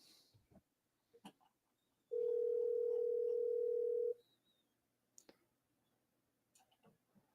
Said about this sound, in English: Can you guys hear the phone?